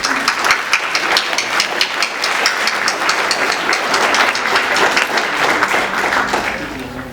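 A crowd applauds steadily at an annual recognition event, dense clapping filling the room at a loud, even level before tapering slightly at the end.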